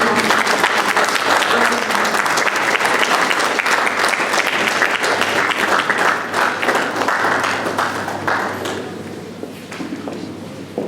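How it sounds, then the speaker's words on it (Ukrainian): Loud, dense applause from a crowd at an art exhibition as a family is welcomed to the microphone, holding steady for about eight seconds before thinning out and fading toward the end. "Давайте оплесками зустрінемо."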